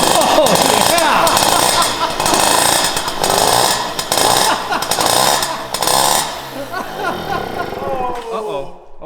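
Yamaha YXZ engine fitted with Italian carburetors running loud and rough, revving up and down in repeated surges before suddenly cutting out.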